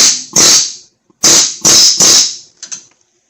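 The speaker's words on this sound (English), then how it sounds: "let's give this a little shot with the air hammer." A pneumatic air hammer works on the front strut of a 2001 Chrysler Sebring, firing in loud, harsh rattling bursts: two quick bursts, a pause, then three more in a row, ending with a short weaker stutter.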